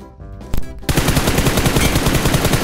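Gunfire in PUBG Mobile, where a Kar98k sniper rifle is in use. One sharp, close shot rings out, then after a brief gap a dense burst of rapid fire continues to the end.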